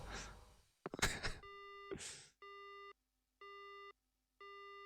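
A disconnected phone call in the video game Spirit Hunter: NG ends in a repeating busy tone, three clean evenly spaced beeps following a few strained gasps and groans, with no talk over it.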